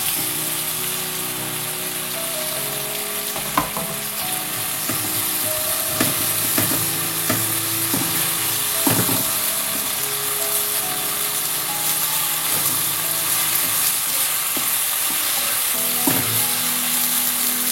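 About 1.5 cups of chopped potatoes, cut from two large ones, fry in hot oil in a Bengali kitchen. A steady, close sizzle runs throughout, with occasional clicks and scrapes of stirring and no talking.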